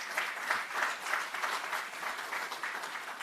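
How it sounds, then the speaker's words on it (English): Audience applause at an awards ceremony for educators, a sustained wash of many hands clapping at moderate distance, steady and fairly soft throughout. "Give yourselves a round of applause."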